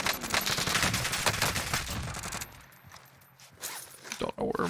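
MAC-10 submachine gun fire in Warzone, dense rapid bursts for the first couple of seconds, then a quieter lull before a few sharper shots, with a voice talking over it.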